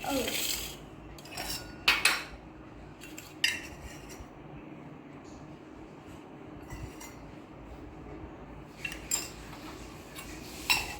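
A spoon stirring bhel ingredients with coriander and a little oil in a bowl, giving irregular clinks and scrapes of cutlery against the dish, close and moderately quiet with soft rustling between strikes.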